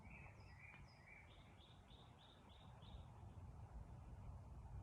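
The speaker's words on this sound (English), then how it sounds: "I love coming outside and just listening to the birds." Birds sing outdoors in short, faint, high chirps and a repeated run of whistled notes, distant and soft over steady low background rumble.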